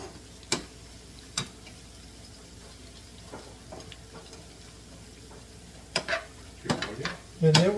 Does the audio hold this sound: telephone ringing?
no